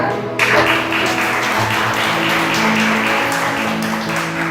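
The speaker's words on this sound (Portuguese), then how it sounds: "Palmas para Jesus de novo." Congregation applauding during a church sermon, steady clapping from many hands with a sustained sustained hum and crowd noise throughout, fairly close and loud.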